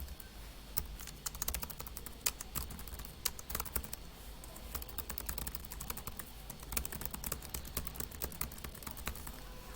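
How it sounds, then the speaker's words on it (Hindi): Rapid keystrokes clatter on a computer keyboard in an irregular stream of sharp, close clicks, fairly quiet, with no voices. "जैसे मैं ऐसे कुछ टाइप कर रहा हूँ,"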